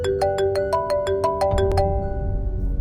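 Phone ringtone plays a bright repeating melodic pattern of short tones, clear and fairly close, cutting off partway with room noise continuing after.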